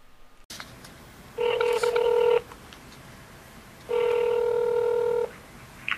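Telephone tones on an outgoing call to a cell phone: two steady electronic ringback bursts about a second or more each, separated by a short pause, moderately loud with no talk.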